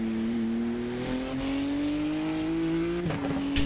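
A cup car engine in the iRacing 24 Hours Nürburgring race on the combined Gesamtstrecke circuit, a steady, slightly rough drone rising slowly in pitch under acceleration, alone and fairly close, ending with a brief gear-change dip.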